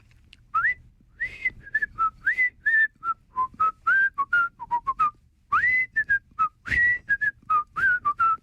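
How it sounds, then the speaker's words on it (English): A person whistles a song melody, a clear run of bright, gliding whistled notes in quick phrases with short pauses between them, close and alone with no talking. "I can whistle."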